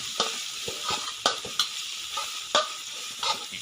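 Curry paste being stir-fried in a pan for a Thai chili-topped tilapia dish: a steady sizzle broken by irregular scraping strokes of a spatula, close and fairly loud, with no voices.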